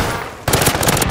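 Rapid automatic gunfire from a laggy online shooter game, a dense loud burst of machine-gun shots that starts abruptly partway through and keeps rattling to the end.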